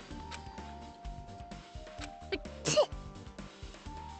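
A character in the video game Danganronpa 2 lets out a single short sneeze partway through, set against steady game music and sound effects.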